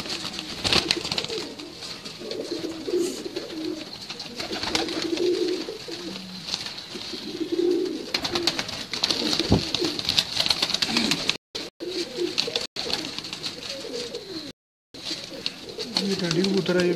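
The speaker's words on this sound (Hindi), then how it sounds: "ये टैडी कबूतर है, ये भी टैडी कबूतर है" Teddy pigeons coo steadily on a rooftop, their soft repeated calls near and clear, while people talk intermittently over them.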